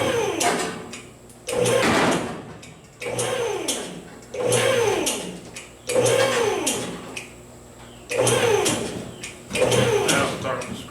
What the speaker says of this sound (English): Now it's starting to scrape the fender.